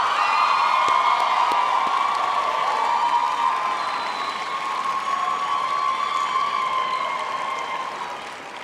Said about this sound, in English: could I ask our graduates to applaud their families, friends, and partners for the support over the many years?